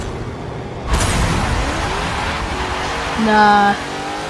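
An 840HP drag Camaro launching hard in Forza Motorsport 7, a loud burst of engine roar rising from the line with a brief higher tonal whine near the end, over a short spoken word.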